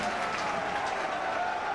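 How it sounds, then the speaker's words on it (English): A home football crowd at Dean Court gives sparse ironic applause, heard as a soft, distant patter of clapping under a commentator's voice during a Division 2 match between AFC Bournemouth and Bristol City. "The ironic applause of the home crowd here at Dean Thorpe."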